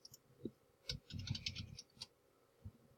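Short burst of typing on a computer keyboard, several soft clustered keystrokes with brief pauses, close and fairly quiet against a faint background hum.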